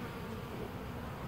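Honey bees buzz densely around a beehive being robbed, a continuous close swarm drone with bees fighting and tumbling on the landing board.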